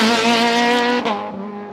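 A Renault R11 race car revs hard at the start line, a loud close engine whine with a strong steady pitch, then a sharp shift as it launches and the sound fades slightly.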